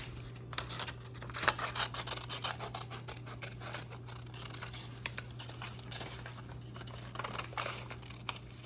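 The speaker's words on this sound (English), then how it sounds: "Now we are going to cut this out." Scissors snipping through a laminated paper craft piece for a snowman keychain, a series of quiet, irregular crisp cuts and rustles up close, with no talking.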